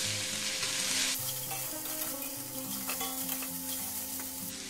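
Beans and mixed vegetables frying for vegetable chow mein give a steady close sizzle, with a brighter burst of hiss in the first second, then an even crackle and some soft stirring scrapes.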